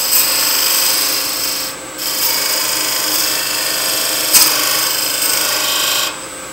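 A wooden jug plug spins on a lathe while a skew chisel cuts it, giving a continuous close scraping, rasping hiss that rises and falls with brief pauses and shifts in pressure.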